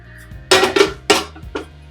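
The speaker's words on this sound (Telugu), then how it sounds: "దానికోసమని నేను వెడల్పాటి గిన్నె తీసుకొని మంటను సిమ్లో పెట్టుకోవాలి" Wide metal pot set down on a stove over low flame, with a few sharp metallic clanks and clinks in quick succession, close and clear.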